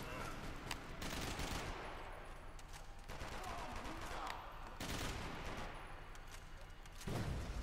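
Dense gunfire in Max Payne 3 multiplayer, repeated sharp shots and bursts over a constant loud backdrop of combat noise, with brief voice sounds.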